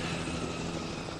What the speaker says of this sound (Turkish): Helikopter, helikoptere bakmamız lazım.